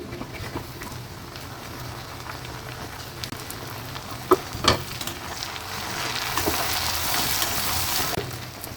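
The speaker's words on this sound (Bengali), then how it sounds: "পেঁয়াজটা একটু লাল লাল করে ভেজে নেব এবার দিয়ে দেবো টমেটো কুচিগুলো" Chopped onion and tomato frying in a pan for an egg butter tadka, a steady soft sizzle running throughout, with a couple of brief utensil knocks midway and the hiss growing brighter and louder toward the end.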